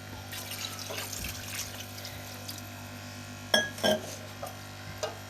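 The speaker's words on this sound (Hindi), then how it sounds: "अब हम इसमें 2 गिलास पानी डालेंगे ताकि जो हमारे चिकन थोड़ा सा कच्चा है वो अच्छी तरह से गल जाए।" Water from glasses poured into chicken cooking for biryani in a pot, a soft continuous trickle with faint clinks of glass and metal, then several louder splashes near the end.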